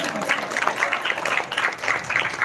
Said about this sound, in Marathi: जोरदार टाळ्या होऊन जातो दीक्षासाठी.